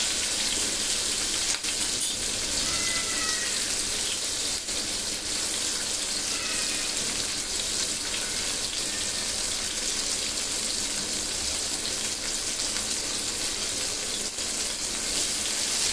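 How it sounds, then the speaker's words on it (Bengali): Chicken pieces fry in a pan on the stove with a steady, loud, continuous sizzle and hiss throughout, no talking. "বেশিক্ষণ না, জাস্ট 2 মিনিটের মতন ভেজে তুলে নেব।"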